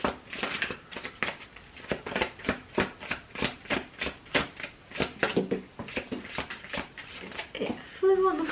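Tarot cards riffle and shuffle in a rapid, steady run of crisp slaps, close and fairly loud, ending with a brief clatter as the shuffle stops.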